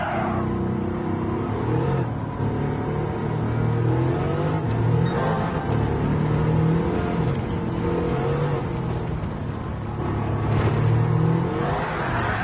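Race car engine in Gran Turismo 7 revving hard and steadily under throttle, a loud continuous droning whine with slight pitch swells, heard alone without voices.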